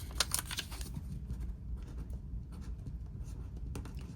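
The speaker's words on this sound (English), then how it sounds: "Let me write that down" A pen writes a ring size onto paper, a steady scratchy scribble up close with soft rustling and no voices.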